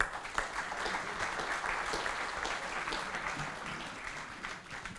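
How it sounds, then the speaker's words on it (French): An audience at a Grand Prix de France press conference applauds rider Loris Baz, a full round of clapping that holds steady, then eases off toward the end. "je vous demande d'applaudir Loris Baz"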